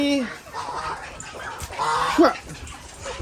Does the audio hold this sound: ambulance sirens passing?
no